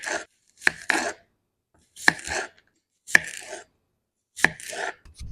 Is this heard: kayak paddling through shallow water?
no